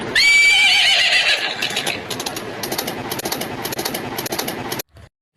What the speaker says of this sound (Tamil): பாருங்கள் இதுதான் குதிரை